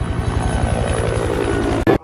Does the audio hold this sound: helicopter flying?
yes